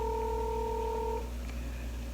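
Telephone dialing on a call, a steady two-tone beep held for about a second before cutting off, leaving a low hum on the line.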